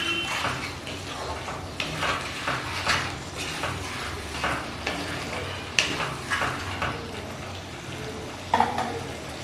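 Spoon stirring spices and sugar in a pan over a medium flame for shukto, soft repeated scraping with a light sizzle underneath and occasional sharper clinks against the metal, close and fairly quiet.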